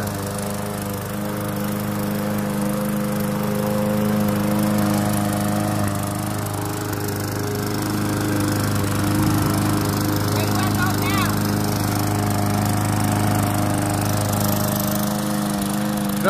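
A pull-start lawn mower runs steadily while grass is cut, a constant close engine drone throughout with no clear talk over it.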